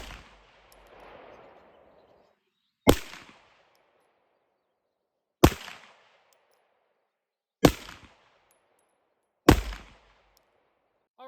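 Four sharp pistol shots fired outdoors with an ADE Trumpet red dot sight mounted, spaced a couple of seconds apart, each loud crack trailing off quickly, with no talk.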